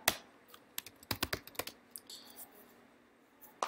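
Keyboard typing while logging in on an Ubuntu 12.04 computer: a few scattered key clicks, then a quick cluster of strokes near the middle and one last click at the end, close and crisp against a quiet room.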